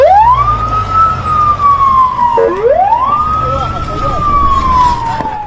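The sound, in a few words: ambulance siren on the streets of Gaza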